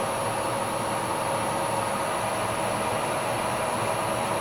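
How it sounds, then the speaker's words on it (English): A woodturning lathe turning a small bowl runs with an even, continuous whirring drone at steady loudness, with no talking. "Turn that lathe speed down."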